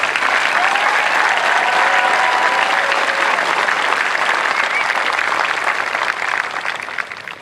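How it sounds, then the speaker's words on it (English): Loud, dense applause from a large crowd at an Air Force basic military training graduation parade, steady and sustained with a few cheers on top, easing slightly near the end. "it deserves a special applause, doesn't it?"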